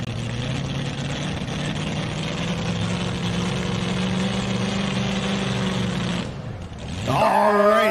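A supercharged pulling truck engine with an all-new 2025 design roars loud and close, holding a steady heavy drone before dropping off briefly and then surging back in a rising, revving howl.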